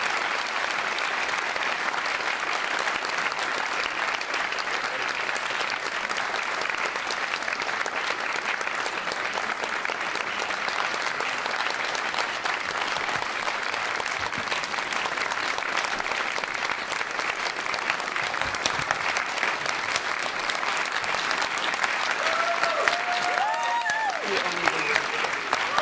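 Steady, sustained applause from an audience at the New York Historical Society's 119th annual meeting honoring Commissioner Kate Levin, a dense wash of clapping lasting throughout with a voice or two rising faintly near the end.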